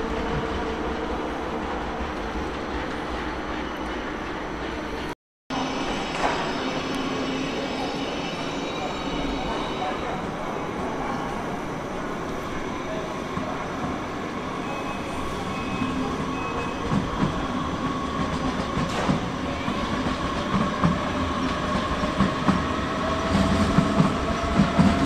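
Trains at Düsseldorf main station, with a steady, loud rumble of rolling railcars and clattering wheels across the platforms, a brief dropout near the start, and faint station voices in the background.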